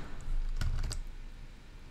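A few quick keystrokes tap on a computer keyboard nearby, a brief cluster of clicks followed by quiet.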